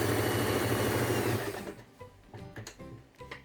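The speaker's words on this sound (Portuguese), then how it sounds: "A gente vai passar uma costura de segurança em toda a volta" A sewing machine runs a safety seam around a fabric piece for a summer bag, a loud steady mechanical buzz for about a second and a half before stopping, followed by quieter handling noises.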